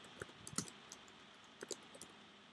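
Quiet, scattered keystrokes on a computer keyboard, a handful of light clicks in uneven clusters with short pauses between them, close and soft against near silence.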